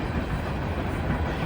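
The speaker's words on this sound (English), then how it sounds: "there's a train coming by again. Gonna be kind of loud" A train rolls past near a disc golf course, a loud, steady broadband rumble with faint rail clatter filling the whole stretch, with no voices over it.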